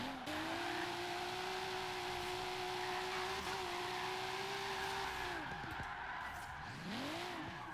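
Nissan S14 Kouki drift car in a racing game, engine droning steadily at high revs before the tires squeal and skid as the car spins out, with the engine note dropping and surging near the end.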